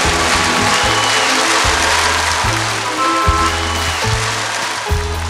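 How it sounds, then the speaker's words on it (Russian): Audience applause for People's Artist of Russia Tatyana Kravchenko, a dense, steady roar of clapping close at hand with music playing underneath. "Встречайте! Ваши аплодисменты!"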